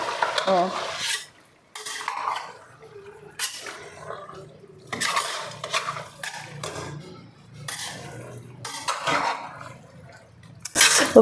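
Chicken for biryani stirred in a pot with a metal spoon, giving close repeated scraping and clinking strokes in short bursts with brief pauses between, and a faint sizzle underneath.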